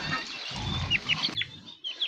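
Chickens cluck and peep close by, short chirpy calls over a low rustling background, no talking.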